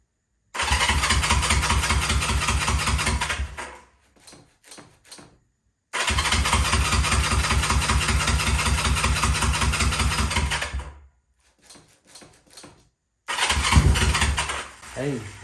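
A Honda CL350 motorcycle engine cranks and catches, running in loud sustained bursts with a steady pulsing beat, cutting out twice between runs before restarting, with scattered clatter in the gaps.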